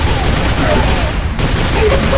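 Rocket launcher fire in the arena shooter Xonotic, a dense continuous barrage of blasts and explosions that stays loud throughout, with a voice talking underneath.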